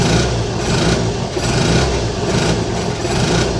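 A BMW C1 scooter's engine runs on its centre stand, a loud, close, steady droning idle with slight pulsing fluctuations and no voices.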